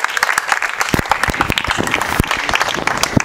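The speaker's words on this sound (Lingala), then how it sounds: "Tous vos applaudissements" An audience at a gathering claps in dense, lively applause that holds steady and loud for the whole stretch.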